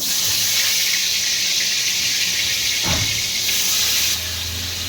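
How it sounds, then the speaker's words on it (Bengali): Paneer frying in hot oil in a wok gives a loud, steady sizzling hiss that runs continuously, with one brief thump partway through. "এখানে এখন তেল দিয়েছে কড়াইয়ে, এখন পনিরগুলো ভেজে নেবে।"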